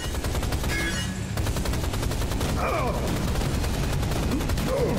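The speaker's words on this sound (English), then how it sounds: "He starts firing those rockets way too early before the spikes are even down." A boss fires rockets in the 2013 video game Rise of the Triad: a loud, rapid barrage of repeated blasts with a brief lull near the start, then steady volleys and scattered whooshing streaks over the din.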